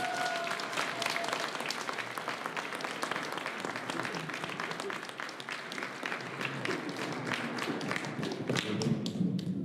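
A ceremony audience applauds an athlete's javelin record, a sustained broad patter of many hands clapping at steady strength from start to finish, with faint crowd voices underneath.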